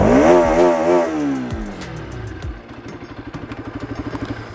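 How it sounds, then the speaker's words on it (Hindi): A Bajaj Pulsar RS 200 BS6 motorcycle's sporty exhaust, close up, blips a quick rev that falls away, then settles into a steady, evenly pulsing idle with no talk. "एग्जॉस्ट नोट जो है वो बेहद स्पोर्टी है और काफ़ी अच्छा है"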